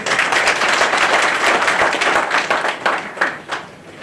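Loud applause from a crowd at a BJP election meeting in a hotel hall in Neemrana, a dense steady wash of clapping that fades toward the end.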